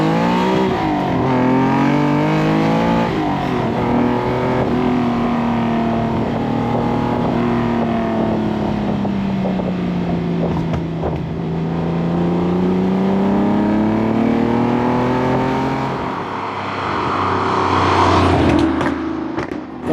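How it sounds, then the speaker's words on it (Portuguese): Loud, close acceleration run from a TVR Tuscan sports car engine, with a sustained roaring note that climbs and dips across gear changes before easing off near the end, no talking. "vamos fazer mais uma puxada com esse motor insano."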